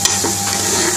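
Vegetables being stirred in a hot frying pan for an Indian restaurant-style mixed vegetable dry dish, a loud, close, continuous sizzle with scraping stirs over one brief second.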